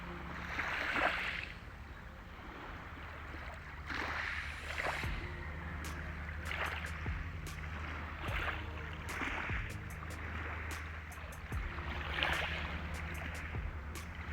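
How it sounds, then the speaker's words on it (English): Calm, windless morning beach ambience at sunrise, with soft, distant waves washing in at an unhurried, irregular pace and faint, sparse chirps and ticks over a low, quiet background, with no voices. "I can record some sounds at the beach in the morning"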